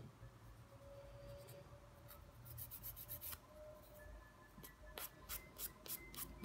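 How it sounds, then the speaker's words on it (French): A nail file runs over an acrylic gel fingernail in short, quiet rasping strokes that quicken into a brisk scratching run toward the end, heard close up with no talking. "je passe juste un petit coup de lime pour la forme"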